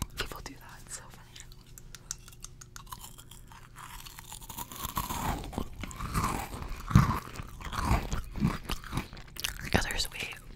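Crunchy oyster crackers being chewed up close in a quiet room, a soft crisp crunching that starts faint and becomes busier and louder, with whispered talk over it.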